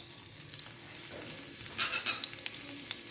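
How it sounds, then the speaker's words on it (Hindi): Cumin seeds and asafoetida crackle and sizzle in hot oil, with light stirring scrapes and a brief louder burst of frying partway through. "अब इसमें हम देंगे जीरा और हींग का तड़का।"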